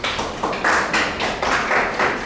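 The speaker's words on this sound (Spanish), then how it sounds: "Un aplauso." A classroom full of students applauds in a steady patter of many hands, rising and falling in waves over a couple of seconds, with no voices over it.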